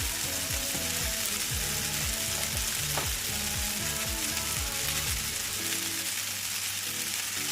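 Spaghetti with oyster mushrooms and meat is stirred in a frying pan, a steady loud sizzle running throughout while repeated scraping strokes of the utensil sweep through the food in a regular rhythm.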